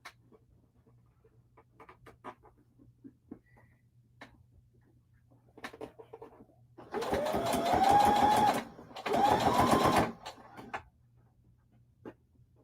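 Sewing machine stitching binding onto a small whimsical turkey placemat, running in two rapid buzzing bursts of several seconds each, preceded by faint taps and handling noises in a quiet room.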